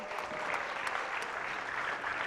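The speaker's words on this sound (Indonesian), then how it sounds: "kita berikan tepuk tangan" A studio audience on a presidential candidate show applauds after the jury's decision is announced, steady, fairly faint clapping that continues evenly throughout with no speech over it.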